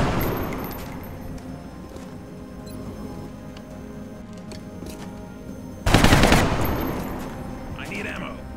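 Gunfire in the video game XCOM Long War: a sustained burst of automatic fire erupts partway through and fades, following quieter game ambience underneath.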